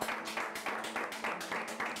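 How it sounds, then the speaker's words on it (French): Applause breaks out for a contestant in an architecture photography challenge, a faint, even wash of clapping from a small group with soft rhythmic surges, heard at a distance. "on peut t'applaudir très fort"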